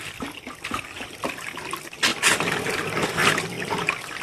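Filtered drinking water for goats trickles and splashes steadily, with a brief louder gush midway, close by and continuous without talk.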